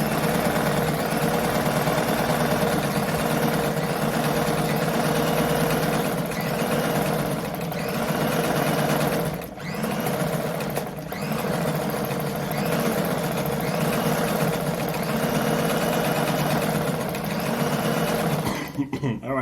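A Brother 345 sewing machine stitches through fabric at a reduced stitch length, running as a steady close mechanical whir with one brief pause partway through.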